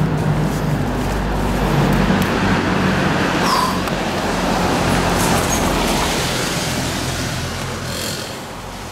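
A car passing on a road outdoors, a loud broad rumble and whoosh that swells and fades over several seconds amid general roadway noise, with no talk.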